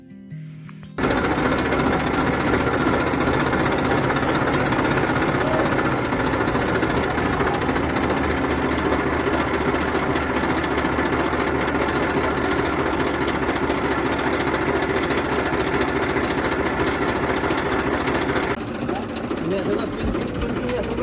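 A tractor engine runs loud and close with a steady rattling drone, starting abruptly after a second and easing slightly near the end.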